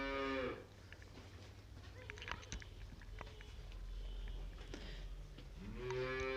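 A cow moos twice, a loud, drawn-out low call at the start and another at the end, with quieter farmyard shuffling and faint chewing between on a livestock farm where cows and calves are kept.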